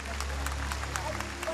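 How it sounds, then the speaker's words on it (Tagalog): Congregation clapping at a church service, a steady wash of applause mixed with crowd voices and a low droning hum underneath. "Ngayon na po pumalakpak mga tao dito."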